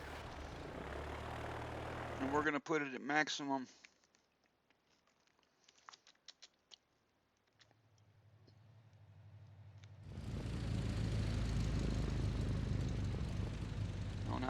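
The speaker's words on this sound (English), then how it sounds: "we're going to launch a spotter plane" Spotter plane launching in the Victory at Sea Pacific naval game: a rising propeller engine drone builds steadily, then sustains loud, following a brief spoken line and some sparse clicks.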